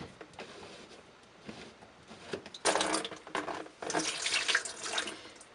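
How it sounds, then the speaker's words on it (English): Running water splashes and gushes in uneven bursts from an unscrewed drain pipe, growing louder and steadier in the second half, as if pouring into a container close by. "as soon as you start to unscrew, the water is going to come out"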